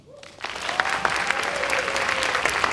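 An audience at a high school spring instrumental music expo breaks into applause for senior band members, clapping rising quickly from quiet to a full steady patter of many hands, with a faint voice near the start.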